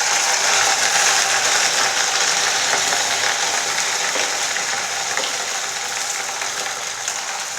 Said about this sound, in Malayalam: അപ്പോൾ ചൂടായ വെളിച്ചെണ്ണയിലേക്ക് നമ്മൾക്ക് അരിഞ്ഞു വെച്ച വെണ്ടക്ക ഇട്ട് കൊടുക്കാം.